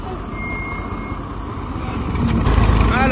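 A Massey Ferguson 240 tractor backs up on a road, its loud continuous engine rumble swelling toward the end with a rattling mechanical edge, up close and without talk.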